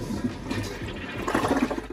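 A newly installed toilet in a basement bathroom flushes, a loud, close, continuous rush and swirl of water lasting the whole clip.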